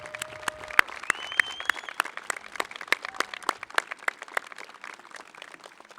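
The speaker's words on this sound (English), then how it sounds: "great round of applause." Scattered applause from a modest crowd at a high school graduation ceremony, the individual claps crisp and distinct, carrying on steadily for several seconds.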